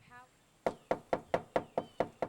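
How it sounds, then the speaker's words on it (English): Knocking on a house door in a storm-ravaged neighborhood: eight firm, evenly spaced raps in a steady rhythm, close and clear, after a brief faint sound at the start. "We knocked on Dana Stiegel's door and no one answered"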